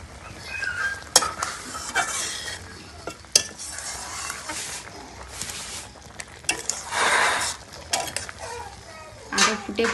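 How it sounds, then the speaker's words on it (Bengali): Close, bubbling sizzle from a pan of elephant apple pickle with jaggery boiling on a clay stove, with repeated stirring scrapes and a few sharp utensil knocks against the pan. "আচার উনানে ফুটছে"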